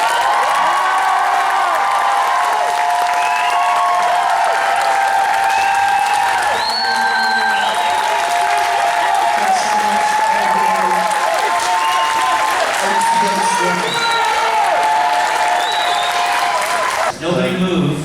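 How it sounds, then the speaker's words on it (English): Audience applause at a comic con, loud sustained clapping from a large crowd mixed with cheers and whoops, continuing for many seconds before ending abruptly near the close. "Give him a big round of applause."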